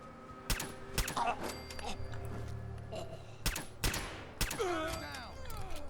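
Rapid bursts of gunfire in Fallout 4, several sharp shots spread across the stretch with a muffled thud and some whining game effects, mixed with background game sound.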